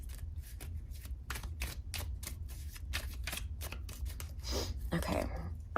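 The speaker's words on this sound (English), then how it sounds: "Should I shuffle them up a little bit so we see different cards" A deck of tarot cards is shuffled up close, giving a run of quick papery riffles and snaps in an irregular rhythm over a low room hum.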